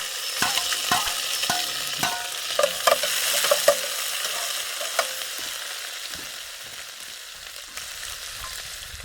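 Onions that have browned are stirred in a pan as green chili and garlic go in, for a home-style potato, pea, carrot, fenugreek and egg karahi, with steady close sizzling frying and repeated scraping and tapping spoon strokes, no talk.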